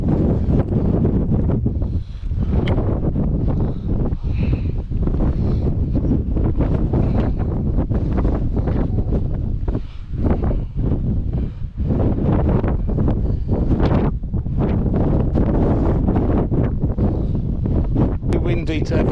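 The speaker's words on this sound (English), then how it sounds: "Too windy to have a drink here" Strong wind buffets the microphone continuously on a hike to Captain Cook's Monument, a loud, steady roar with gusty surges throughout and no pauses.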